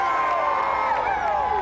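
A large street crowd at a New York Rangers championship parade cheers and shouts, a dense, loud, continuous roar of mixed voices with piercing whistle-like tones sliding across it.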